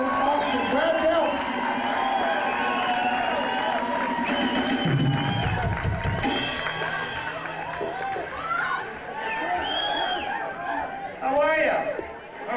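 Crowd at a live concert giving warm applause and cheers to the lead singer as he takes the stage: dense clapping and cheering mixed with chatter and talk, swelling midway and again near the end.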